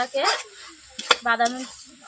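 Peanuts stirred with bottle gourd in a hot pan, with scraping strokes and a light sizzle coming in short bursts, close by, with no voices.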